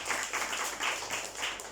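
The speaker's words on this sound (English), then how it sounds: "Clap your hands for her yesterday." Steady crowd applause with many hands clapping together, a dense continuous patter that holds at even loudness throughout.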